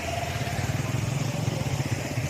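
A motorcycle engine drones steadily at close range with a pulsing, throbbing note, holding loud and even as the bike goes by.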